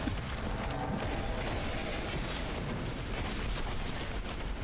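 Horse enemies attacking in Dark Souls 2 inside Castle Drangleic, a dense continuous clatter of hooves and mechanical clanking with rumbling impacts, loud and busy throughout.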